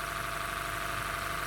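A Honda Shuttle engine idles close by with a knock from the first cylinder, a steady mechanical drone with faint repetitive tapping throughout.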